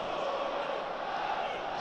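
Roaring football crowd at a Middlesbrough FC match, a steady dense wash of cheering and noise holding level throughout with no clear voices standing out.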